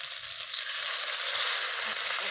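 Water poured into a pan of frying potatoes and okra sets off a loud, steady hissing sizzle that holds evenly throughout, close up.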